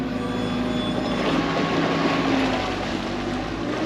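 A small fishing boat's outboard engine runs steadily offshore at anchor, a loud continuous drone with wind and water noise and no talk.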